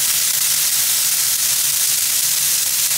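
Rump steak pan frying, a steady broad sizzle and hiss running continuously without pause, moderately loud and close, with no voices.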